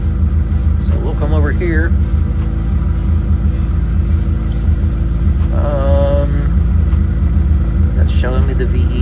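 Suzuki Samurai engine idling with a steady low rumble close by, running continuously while someone talks over it.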